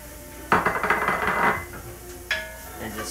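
Onions and garlic sizzle in a pan while a utensil stirs and scrapes them, with a burst of clattering strokes that tapers off, then a second short scrape near the end.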